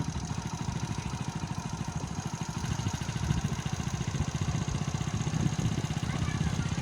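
A motorcycle rides through Kasna village in Mollahat, Bagerhat, its engine a steady, close, mid-pitched drone with a fast pulsing thrum throughout.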